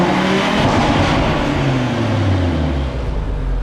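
An Audi RS3 with an Eventuri intake, tuned to 520 bhp, revs loudly up close. The engine note climbs and falls in sweeping pitch changes over steady mechanical roar, with no talking.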